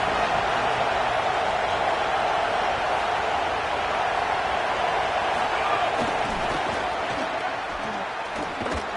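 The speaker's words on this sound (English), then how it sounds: "This crowd ready to make its presence known." A stadium crowd in a college football video game, BYU versus IU, produces a dense, continuous roar at steady loudness, with faint scattered thuds beneath it.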